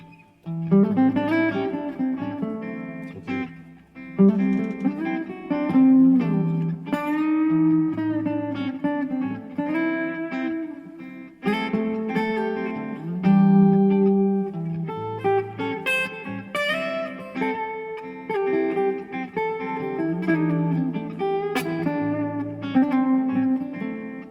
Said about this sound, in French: on va mettre par la reverb